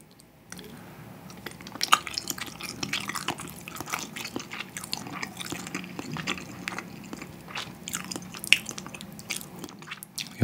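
Someone eats Spam from a bubbling budae-jjigae stew, with close, wet biting and chewing, squishy mouth sounds and soft slurps running steadily over a low background hum, without any talking.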